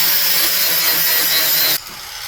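Welds on the steel frame rails of a scratch-built 1/10 scale RC crawler being ground down: a loud, close, continuous hissing grind that stops abruptly near the end, leaving a faint whir.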